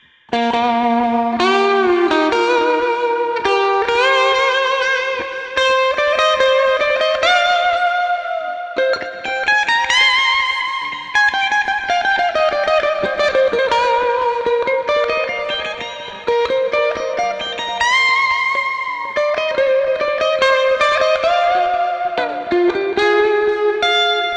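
A distorted electric guitar plays a sustained melodic riff with gliding notes and heavy effects, loud and continuous.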